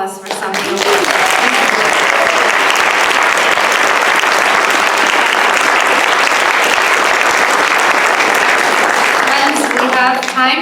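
An audience gives Sami Awad a round of applause after his talk, dense, loud clapping that swells in quickly and holds steady for about ten seconds.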